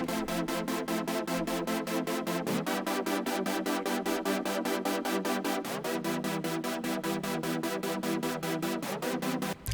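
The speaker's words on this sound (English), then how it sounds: "You want a synth that sounds like this." Dense, bright future bass synth chords sustaining loudly and continuously, with the chord shifting roughly every three seconds in a steady kawaii-style progression and no voice over it.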